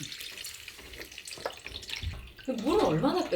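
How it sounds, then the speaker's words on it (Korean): Running water from a tap rinsing salted greens for kimchi, a soft splashing and rushing that swells louder in the last second, with faint talk and handling sounds early on. "이때는 물을 충분히 받아서 씻어야 돼요"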